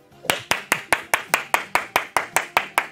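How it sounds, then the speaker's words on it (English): A single pair of hands claps sharply about fifteen times in a steady, even rhythm, close and loud. "Fucking clapping, Jack."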